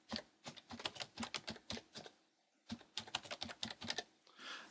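A name typed on a computer keyboard: quick clusters of crisp close keystrokes in two bursts separated by a short pause, with no speaking.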